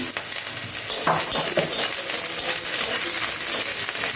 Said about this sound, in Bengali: পেঁয়াজটা এবার একটু হালকা করে ভেজে নিতে হবে।